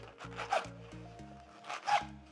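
Cardboard rubbing and scraping while a refurbished MacBook Air box is opened, two short close scratchy bursts over faint background music.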